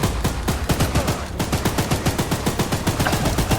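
Rapid automatic gunfire from the horror video game Choo Choo Charles rattles in a fast, steady stream of sharp shots, loud and continuous with a brief dip partway through.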